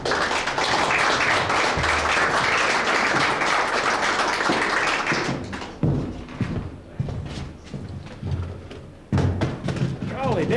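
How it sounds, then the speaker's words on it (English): Audience at a live country and western music hootenanny clapping in dense sustained applause that thins into scattered claps and thumps while a voice talks over the end. "the other half doesn't have to clap as loud"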